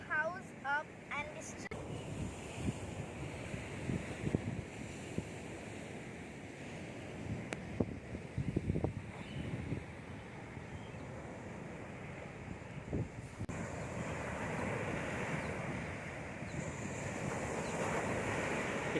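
Sea waves wash onto a quiet, uncrowded beach at Habalikhathi in Bhitarkanika, a steady broad surf roar with wind that swells louder toward the end.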